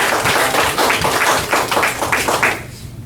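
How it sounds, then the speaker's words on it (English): Applause from the audience at a Shelby County Republican Party meeting, a few seconds of close, steady clapping with a rhythmic pulse that fades out sharply near the end. "one more round of applause for Rob White"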